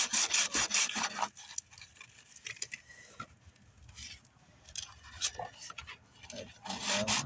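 Body filler on a car panel being hand-sanded with 100-grit sandpaper, quick repeated rasping strokes up and down, close and fairly quiet, with brief pauses between bursts.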